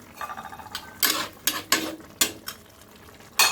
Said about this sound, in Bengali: আমি এবারে বড়া কয়টা দিয়ে দিই